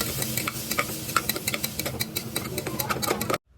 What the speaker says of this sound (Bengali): নাড়াচাড়া করতে থাকবো এইভাবে